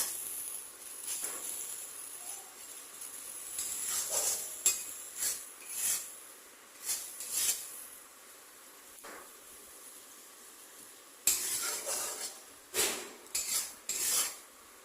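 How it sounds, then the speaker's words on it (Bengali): Onions sautéing in a pan for prawn malai curry, a steady faint sizzle broken by repeated scraping and stirring strokes and the clink of a utensil against the pan. "এখানে করছে পেঁয়াজ কষা"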